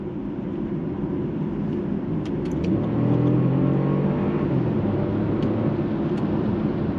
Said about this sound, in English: Once you put foot down, you can feel the electric motor and the petrol motor just kicks in the boost power